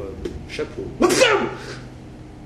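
A single loud sneeze bursts out close by at about one second, in a French-speaking indoor setting, after a short spoken word.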